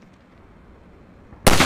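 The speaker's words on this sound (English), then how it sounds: "Let me shoot out the latch. I might be a little rusty with this rifle." A single loud rifle shot in Half-Life 2: Episode One, fired at a latch. It bursts in near the end after a stretch of quiet background.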